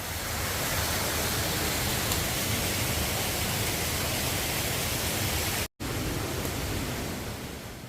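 A mountain waterfall on Jirisan along the old Seosan Daesa trail roars as a loud, dense, continuous rush of falling water with only a momentary break, and no voices.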